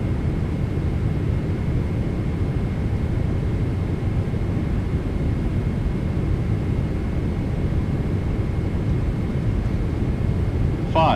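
PMDG 777-200ER airliner engines in a flight simulator game give a steady, even roar through the cockpit, moderately loud, with a brief faint tone near the end.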